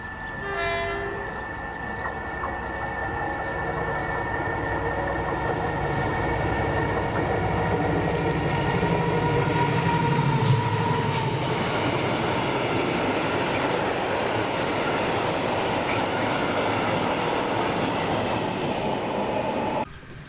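A Colas Rail freight train passes at Monifeith, opening with a horn blast before a loud, sustained rumble and clatter of wagons rolls by up close for the full length.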